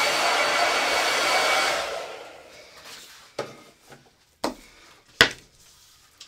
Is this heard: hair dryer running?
yes